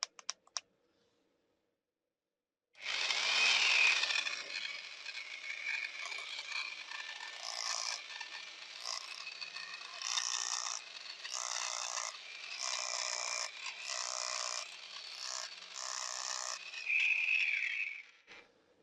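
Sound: Parkside PES 250 A1 electric scraper working under pressure

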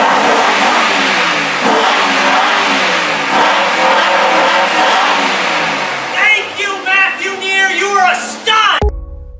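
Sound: sports car engine revving

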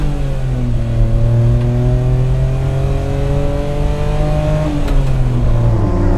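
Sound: Daihatsu Hijet accelerating from standstill at full throttle

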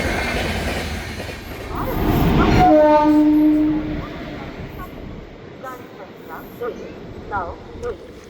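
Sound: train arriving at station

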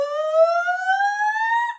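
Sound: voice imitating a siren in a vocal warm-up

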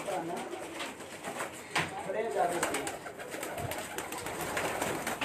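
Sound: pigeons cooing on a rooftop

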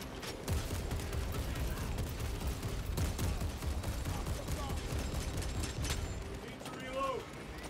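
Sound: gunfire in video game Warhammer 40K Space Marine 2

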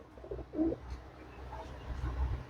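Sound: Andhra pigeons cooing

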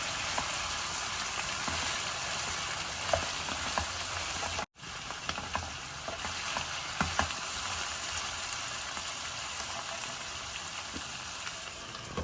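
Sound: potatoes frying in a pan

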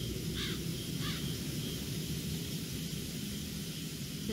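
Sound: crows cawing in video game Everlasting Summer

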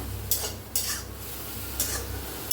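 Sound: cluster beans (gavar) being dry-roasted and stirred in a kadhai

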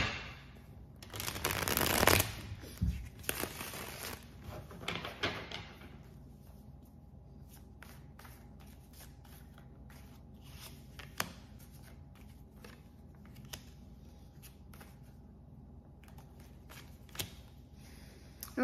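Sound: shuffling tarot cards

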